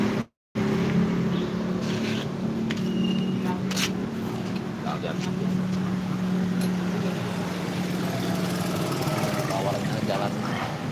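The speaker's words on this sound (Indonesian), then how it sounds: "Motornya lagi dicuci ya." An antique motorcycle is cleaned with a steam washer, whose steady droning motor hum runs continuously for the whole stretch after a brief dropout at the start, with voices faintly talking in the background.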